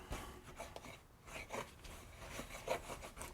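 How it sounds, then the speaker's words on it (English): A spoon scraping around the sides of a mixing bowl of homemade pizza dough, giving faint, intermittent rubbing and rasping strokes close to the microphone. "Gonna scrape the sides of my bowl here, my spoon."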